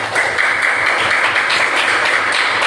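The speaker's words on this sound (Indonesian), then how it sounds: "Kita kasih close tepuk tangan buat kelompok 2." Sixth-grade students clapping hands together in a classroom during a math lesson, a loud, steady burst of close applause filling the whole moment without talk.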